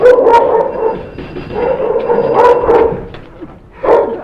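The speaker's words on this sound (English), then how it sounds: "That dog out there won't let you move." A dog barks outside in several loud, rough bursts with whiny yips between them, close by and agitated, with no talk over it.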